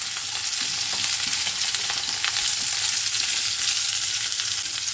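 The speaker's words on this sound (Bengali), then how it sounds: "ডাঁটাটাও দিয়ে দিই, ভালো করে নেড়ে মিলিয়ে দিই।" Malabar spinach stalks and vegetables fry in hot oil for a Bengali sabzi, a loud, steady crackling sizzle with soft stirring scrapes running throughout.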